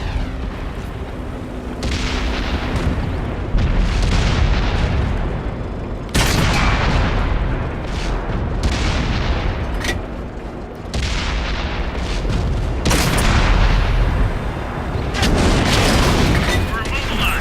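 Tank cannon fire in World of Tanks: a series of heavy, booming shots spaced a few seconds apart, each with a sharp onset and rumbling decay over engine and battle noise, with voice lines between.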